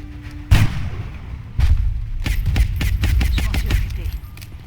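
Sniper rifle fire in XCOM Long War on an impossible-difficulty docks mission: one sharp loud crack, then a second report followed by a rapid run of impacts and gunfire bursts.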